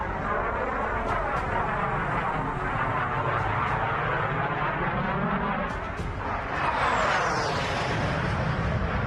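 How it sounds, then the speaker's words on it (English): Jet aircraft flying past at the London Air Show, a loud continuous roar with a sweeping rise and fall as one passes close overhead near the end, no talk. "our team recorded jet sounds at the London Air Show a few years back"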